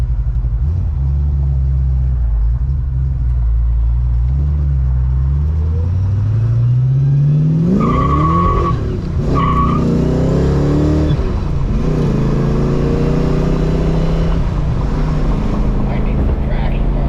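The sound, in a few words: Ford Fox Mustang V8 engine with T5 swap revving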